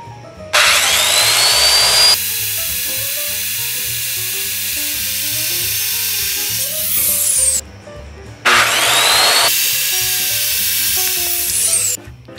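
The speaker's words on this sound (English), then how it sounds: "then I trimmed the post to length" A power saw cuts a wooden lamp post to length, two long loud whining passes through the wood, each starting and stopping abruptly, with no talking.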